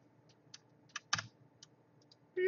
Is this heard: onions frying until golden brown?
no